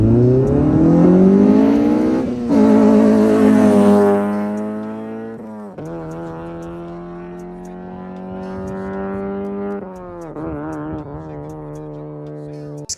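An 8th-generation Honda Accord with a replacement transmission accelerates hard, engine revs rising and dropping as it shifts from first to second with a stutter, loud and close, with no talk.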